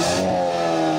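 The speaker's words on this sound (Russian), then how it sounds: "Здесь есть несколько разных уровней выхлопа, из которых можно выбрать во время езды" A Hyundai Kona N engine hums steadily through its dual exhaust on the quietest setting, with a low, even drone, fairly close and moderately loud.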